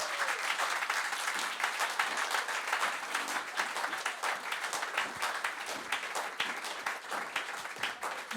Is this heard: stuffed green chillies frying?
no